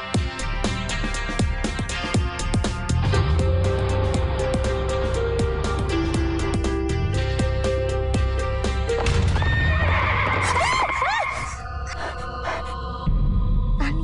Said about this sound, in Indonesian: Tadi ada kuda lewat cepet banget.